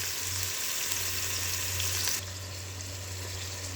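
Red onion and long-cut garlic frying in a pan, giving a steady, close sizzle with a low hum underneath and the sizzle easing slightly toward the end.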